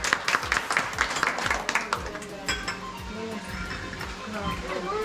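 A crowd at a gathering claps together, a quick dense patter of hands close by that fades into background chatter and clinking, with people talking over it.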